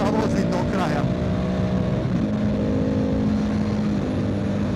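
A 2024 Triumph Tiger 900 GT Pro motorcycle in sixth gear accelerating on the throttle, a steady loud engine drone with rising tonal whine and constant wind rush, someone talking over it.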